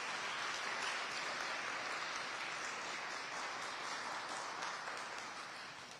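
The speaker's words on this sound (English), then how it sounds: "please give a big round of applause for them as well" Steady, dense applause from a crowd at an outdoor library bookmobile ribbon-cutting ceremony, heard at a low, distant level and tapering off slightly toward the end, with no talking over it.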